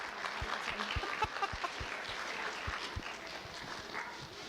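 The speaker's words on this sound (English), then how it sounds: "Give him a round of applause." Scattered applause from a small group, with uneven claps and a dog's yip or whimper heard amid the clapping.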